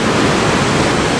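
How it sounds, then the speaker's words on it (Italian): A waterfall in Namibia plunging into a gorge roars as a steady, loud, broadband rush of water with no pauses and no voices. "è la cascata."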